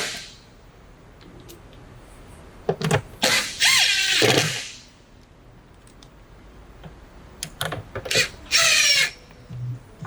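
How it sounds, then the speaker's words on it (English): A power screwdriver drives screws back into a GE dryer door as it is reinstalled, whirring in two loud bursts of a second or two each, separated by quieter handling noise. "Just line up your holes and reinstall the 14 screws that are securing it."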